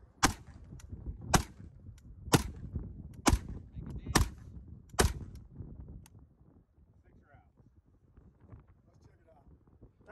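Six sharp gunshots fired at a graphene-infused resin bulletproof clipboard insert on an outdoor range, loud and evenly spaced about a second apart, with wind noise and quiet background between shots.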